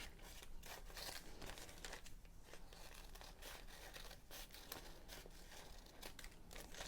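Scissors cut circles of newspaper for paper flowers, making faint, close crinkling and snipping sounds that continue in quick irregular bursts throughout.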